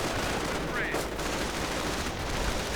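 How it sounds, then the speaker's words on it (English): Rifle gunfire in a World War II real-time strategy game battle, dense continuous bursts of small-arms fire throughout under steady in-game battle noise. "in fact, to deal with these riflemen, gunning them down"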